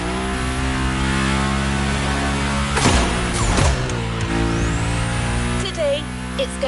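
A BMW M5 Drift Edition in The Crew Motorfest revs hard, its engine climbing and falling in pitch with a loud burst of revving near the middle, under a steady background drone.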